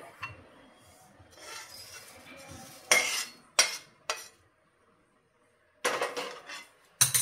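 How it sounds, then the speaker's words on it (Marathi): Roasted poha for chakli bhajni scraped from a pan into a bowl, heard as clanking metal and scraping strokes in uneven bursts, close and moderately loud, with quiet gaps between. "तर हे पोहे सुद्धा काढून घेऊयात आपण. एका बोलमध्ये काढते."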